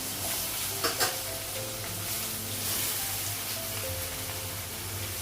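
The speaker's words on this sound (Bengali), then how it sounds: "সয়াবিনটা আলুটা একসঙ্গে ভেজে নেব" Soybean chunks and potatoes sizzle together in a pan, a continuous close hiss with a couple of clattering stirs early on and a low background hum.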